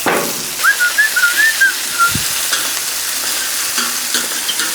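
Steak frying in a pan gives a steady broadband sizzle throughout, moderately loud, with a brief whistling tone early on and a low thump near the middle.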